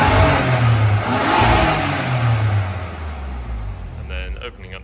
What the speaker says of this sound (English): So we'll just let the vehicle warm up and see how it sounds.